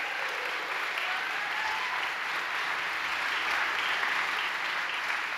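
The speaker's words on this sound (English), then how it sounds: "Let's give them a round of applause." Audience at a high school choral spring concert applauds the choir, a continuous wash of clapping from a large crowd, even and moderately loud for the whole stretch.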